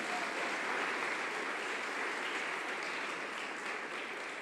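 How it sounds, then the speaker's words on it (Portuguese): A congregation at an Easter church service applauds loudly and continuously as an even wash of clapping, with no speech over it. "aplauda bem forte o nome de Jesus"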